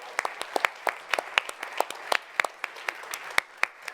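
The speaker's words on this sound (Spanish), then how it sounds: "Un aplauso al Señor." Church congregation clapping in praise during a Spanish-language service, sparse irregular hand claps from a modest group, fairly distinct individual claps rather than a dense roar.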